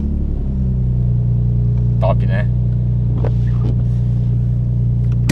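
Nissan 370Z drift car holds a deep, steady rumbling idle close by, loud and continuous, while people talk over it in the cabin.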